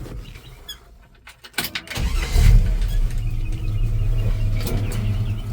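A 1966 Chevy C10 pickup engine cranks and catches, then settles into a loud, steady low idle close by after a few quieter clicks and knocks.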